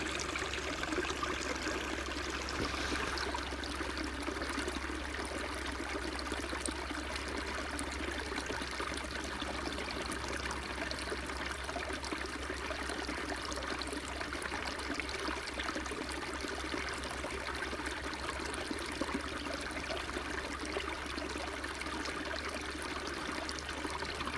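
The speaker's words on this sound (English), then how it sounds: "you can't go wrong with the sound of rushing water, right?" Stream of rushing water heard as a steady broadband wash that continues unbroken and evenly loud for the whole stretch, with no voices over it.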